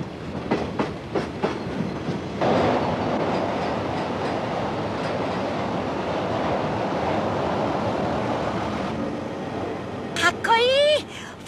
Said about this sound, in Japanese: カートレインは人と車を一緒に乗せて走る列車のことなんだよ